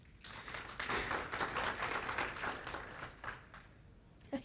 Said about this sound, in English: Just can you give them a round of applause?